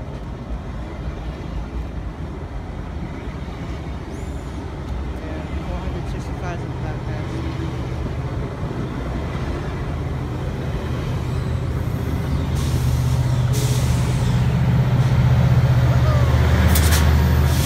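A Sounder commuter train rolls in on Puget Sound tracks, its rumble building steadily louder from a distance, with a sustained horn-like tone near the end.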